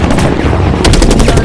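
Rapid machine-gun style gunfire in a comedy sketch, loud continuous bursts with a string of sharp repeated shots in the second half.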